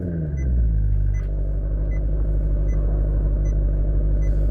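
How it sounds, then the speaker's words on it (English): A Maserati engine cold-starts outdoors on a chilly day, cranking briefly before catching and settling into a loud, deep, steady idle, with faint regular ticking above the rumble. "Let's go ahead and get a cold start real quick."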